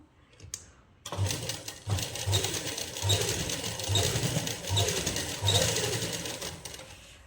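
An electric sewing machine runs a double seam along the side of a suit, its motor whirring steadily in repeated short bursts with brief pauses between runs, close and fairly loud.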